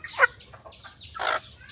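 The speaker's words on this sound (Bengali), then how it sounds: "আর এই 3টা মুরগি হচ্ছে আমি বিক্রি করে দিয়েছি।" Chickens at a Bangladeshi homestead make a few short, close clucks, one sharp call near the start and a louder burst toward the end, with quiet gaps between.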